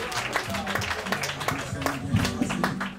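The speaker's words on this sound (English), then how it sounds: "Clap it up as loud as you can for JP McDade." A crowd claps and applauds for battler JP McDade as he is introduced at a roast battle event, a steady spread of hand claps mixed with some voices and background noise.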